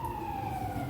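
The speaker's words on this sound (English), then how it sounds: "it's an ambulance, police," A steady wailing siren tone drifts slightly downward in pitch over a low traffic rumble, continuous and moderately distant for the whole second.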